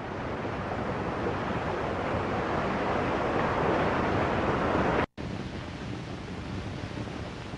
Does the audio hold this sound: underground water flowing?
yes